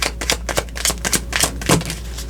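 A deck of cards is shuffled up close, giving rapid, irregular crisp riffling and flicking bursts with no talking over them.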